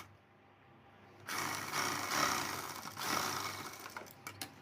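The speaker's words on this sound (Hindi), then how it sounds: "अब इसी तरह से हमें दूसरी साइड लगाना है सिलाई" A sewing machine stitches the side seam of a princess-cut blouse, starting after a quiet second and running in a fairly soft, continuous mechanical whir with slight speed changes and a few taps toward the end.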